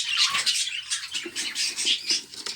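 Budgerigars in an aviary chirp and squawk in quick, overlapping bursts, a busy chatter of short sharp calls close by.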